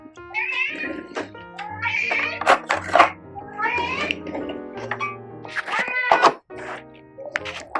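A cat meows repeatedly and insistently, loud and close, in a series of drawn-out, yowling calls with short pauses between them, as wet cat food is opened.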